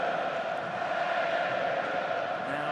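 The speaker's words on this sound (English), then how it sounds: "Now it's the English voices that can be heard in the crowd." English fans in the crowd at a France vs England rugby match, a steady, distant roar of massed voices that continues without a break.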